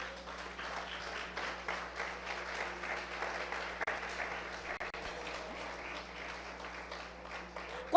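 A church congregation applauds steadily at a Spanish-language sermon, a dense, even patter of many hands at moderate loudness with a low steady hum underneath, lasting several seconds.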